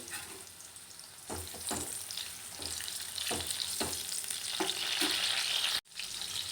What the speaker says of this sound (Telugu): బీట్రూట్ క్యారెట్ ముక్కలు వేసి ఫ్రై చేసుకోవాలి